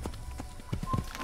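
A horse gallops through the game world of Assassin's Creed, quick repeated hoof clops close by in a steady run lasting just over a second, with faint voice murmur underneath.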